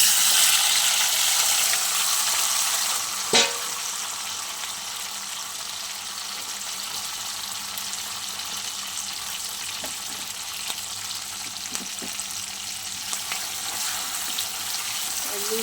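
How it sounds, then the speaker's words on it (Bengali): Tomato, onion and Kashmiri capsicum hit hot oil and fry with a steady, close hiss that holds evenly throughout, broken by a few faint clinks and taps. "এই তেলের মধ্যেই দিয়ে দেব টমেটো, পেঁয়াজ, কাশ্মীরি ক্যাপসিকাম"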